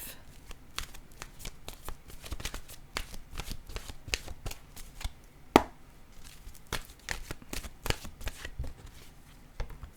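Oracle cards being shuffled by hand, a run of quick crisp riffling flicks and soft slaps in an irregular rhythm, close and fairly loud, with one sharper snap midway.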